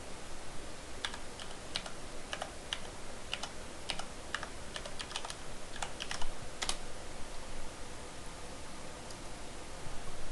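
Quiet keystrokes tap on a computer keyboard in irregular bursts of clicks, close but faint over a soft hiss of background noise.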